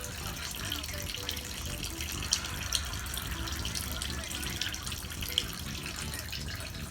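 Transmission fluid running out of an open drain plug into a pan, a steady close trickle and splash with a few brief drips or knocks on top.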